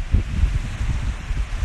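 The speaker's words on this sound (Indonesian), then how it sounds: "Kena angin." Wind rushes steadily across the microphone aboard a speedboat heading to a nearby island, a loud, continuous buffeting roar with no break and no voices.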